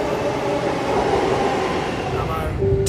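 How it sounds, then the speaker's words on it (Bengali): A metro train on a city line pulls into a station platform, a loud continuous rumble and whine of the cars, with a brief hiss near the end and no clear talk over it. "চলে এসছে আমাদের মেট্রো"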